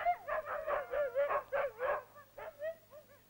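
About 35 sled dogs yip, bark and whine in a dog yard in quick overlapping bursts, a noisy chorus at moderate distance that tapers off toward the end.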